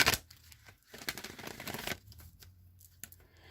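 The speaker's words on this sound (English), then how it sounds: "I'm just going to shuffle the wisdom of the Oracle deck a few times" Crisp papery riffling bursts of an oracle card deck being shuffled, close up, in two or three quick runs with brief pauses between.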